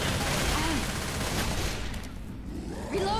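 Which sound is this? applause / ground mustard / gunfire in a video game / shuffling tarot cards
gunfire in a video game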